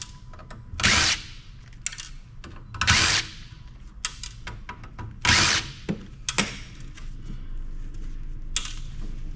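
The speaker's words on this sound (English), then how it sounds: "Fortunately, they're coming out easy enough with the number 1 Phillips." A number 1 Phillips screwdriver backs connector screws out of a Peavey Heavy Weight amplifier. Bursts of close ratcheting, scraping and squeaky turning repeat several times over a steady low background.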